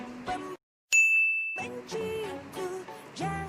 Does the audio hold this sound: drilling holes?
no